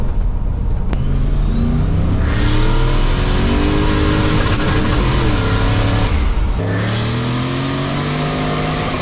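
A 1965 GMC truck engine revs hard and steady, rising and falling in long loud pulls close by, with a brief lift off the throttle before climbing again.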